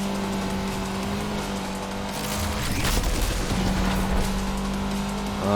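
Lotus Exige S engine in Need for Speed Unbound, a steady loud drone with a sustained engine tone that swells briefly with a rushing burst midway, then settles back into continuous throttle-on running.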